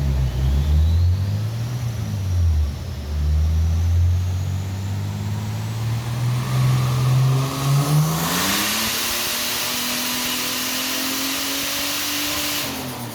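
Ford Falcon AU with a turbo engine on a dyno pull, engine droning and rising steadily in pitch as it revs up under load, with a loud hiss joining in near the top.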